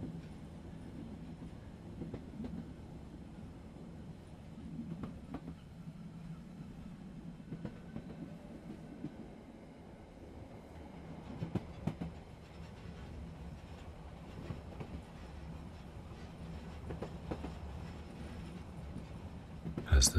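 A train rolls steadily through falling snow, its low continuous rumble and faint rail clatter filling the background with a few soft clicks and knocks along the way.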